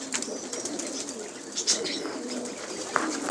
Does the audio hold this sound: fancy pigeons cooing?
yes